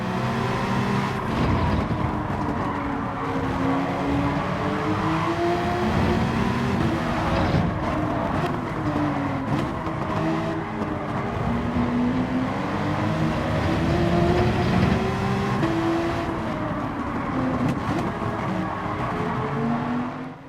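Race cars in Gran Turismo 7 roar throughout, a steady engine drone with rising and falling pitch as gears shift, close and continuous with no voices.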